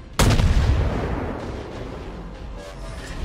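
A naval gun fires from the second turret of a warship in World of Warships: one sudden heavy boom, loud and close, with a rumbling decay that trails off alone.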